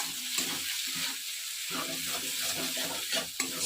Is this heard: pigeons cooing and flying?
no